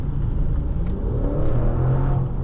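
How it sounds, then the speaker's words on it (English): The Ferrari-derived V8 of a 2019 Maserati Levante Trofeo with 590 hp rumbles from inside the cabin, a deep, steady engine drone with a slight rise in revs. "When we come to a stop, I will rev up the car so you guys can hear that."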